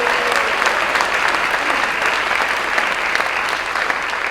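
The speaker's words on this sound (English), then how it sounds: "Let's give a big round of applause to all of our sponsors for this evening's event." A seated audience at a seniors' talent show in Chattanooga claps in sustained, dense applause for the evening's sponsors, loud and even throughout with no pauses.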